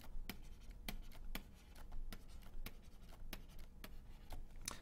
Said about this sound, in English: Let me just write these out.